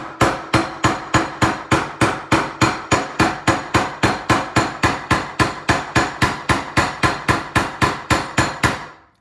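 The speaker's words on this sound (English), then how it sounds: "As you can see, while I'm hammering" A silver wire-wrapped pendant is struck by a hammer on a chisel in an even, rapid series of about thirty sharp metallic taps, close and loud, with no talking.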